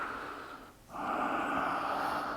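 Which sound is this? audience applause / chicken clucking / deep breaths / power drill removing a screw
deep breaths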